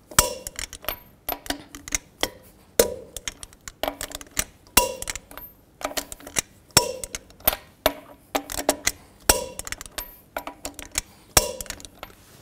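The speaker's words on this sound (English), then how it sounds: "Now I'm going to torque these lug nuts to 140 foot-pounds in a star pattern to tighten the wheel down evenly." A torque wrench tightens lug nuts to 140 foot-pounds on the rear wheel of a 2000-06 GMC Yukon. Sharp metallic clicks and clanks repeat in quick bursts at an irregular rhythm, close by, with no talking.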